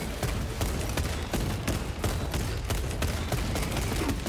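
Rapid gunfire from the video game Warhammer 40k: Space Marine 2, dense bursts of loud shots in a continuous fusillade against swarming enemies.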